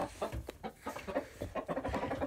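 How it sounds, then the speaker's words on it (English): A backyard chicken clucks close by in a quick, uneven run of short calls, with no talking over it. "That's one of my chickens."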